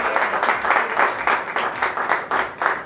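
Spectators at a kebab eating contest clap together in a lively burst of applause, dense and close, with rhythmic swells throughout.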